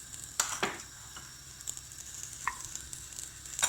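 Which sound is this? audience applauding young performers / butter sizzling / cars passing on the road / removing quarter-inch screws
butter sizzling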